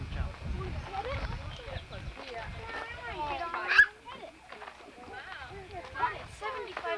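Hooves clip-clop steadily along the ground while several people talk over them.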